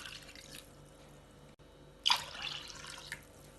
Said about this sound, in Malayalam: ഇനി 2 കപ്പ് വെള്ളം ചേർക്കാം